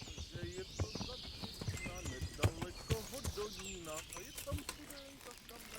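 Horse hooves clopping in the medieval game Kingdom Come: Deliverance, a steady run of soft thuds beneath someone talking over the gameplay, with faint birdsong and ambient noise behind.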